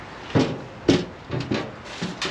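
The door of an abandoned 1972 Dodge Challenger is worked open with a few sharp creaks and clunks, about four distinct knocks close to the listener.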